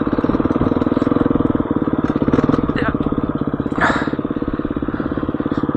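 Husky FE350s motorcycle ridden off road, its single-cylinder engine chugging steadily and close throughout, with a brief swell of revs partway through and a voice talking over it.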